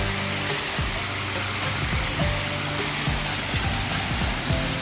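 A waterfall at Yercaud pours in a steady, dense roar, continuous and fairly loud, with lower rumbling pulses beneath the broad wash of falling water and no voices.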